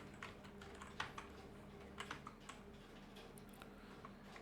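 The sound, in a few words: typing an author name on a computer keyboard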